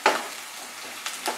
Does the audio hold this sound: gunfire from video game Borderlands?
no